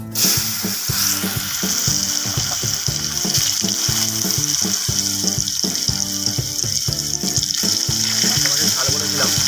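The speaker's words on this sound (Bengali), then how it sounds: "ওই তেলের মধ্যে আমি আলু কুচানোগুলো" Chopped potatoes fry in hot oil left from frying bata fish for a fish curry, a loud continuous sizzle close up, with rhythmic stirring or scraping thumps running underneath throughout.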